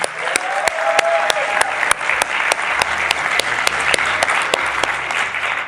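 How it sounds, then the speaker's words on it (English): An audience at a youth meet claps in a dense, steady round of applause, loud and close, with a few sharp individual claps standing out. "let's give a big round of applause to the Bhajan Mandir for kicking us off"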